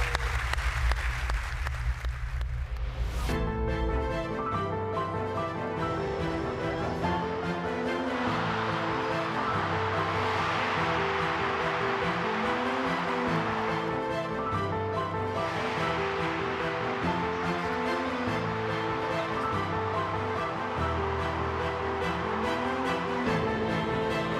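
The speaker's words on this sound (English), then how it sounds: "there was so much applause in this arena that she almost joined us early." An arena crowd at a UEFA award ceremony during the Champions League group stage draw applauds in a long, broad wash of sound, mixed with loud music that plays throughout.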